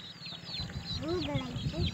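Chickens clucking in a coop, a mix of short clucks and rising calls close by, with a person's voice talking over them and low rustling underneath.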